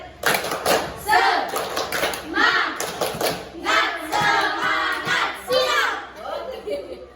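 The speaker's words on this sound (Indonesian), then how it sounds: "Tepuk semangat." Group clapping in rhythm during a school group counseling session in a classroom, a series of sharp hand claps in bursts over several seconds mixed with voices of students.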